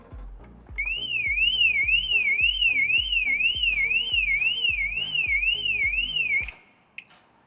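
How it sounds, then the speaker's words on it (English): A newly installed car alarm siren on a Škoda Laura, triggered by jacking up the car, wails in a rapid rising-and-falling electronic warble over a pulsing low thump, then cuts off abruptly, followed by a brief chirp. "it will raise the alarm that we have just installed"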